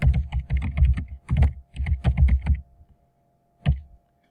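A comment being typed on a computer keyboard: a close, brisk patter of keystrokes for about two and a half seconds, then a pause and one last short tap.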